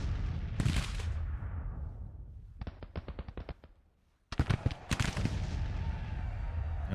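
Cannon and rifle fire from the Civil War strategy game Grand Tactician at the Battle of Fredericksburg: loud booming blasts, then a rapid crackling volley of musketry, then another heavy barrage over rumbling battlefield noise.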